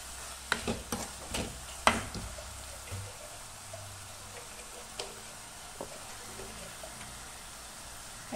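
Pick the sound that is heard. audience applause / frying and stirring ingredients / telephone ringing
frying and stirring ingredients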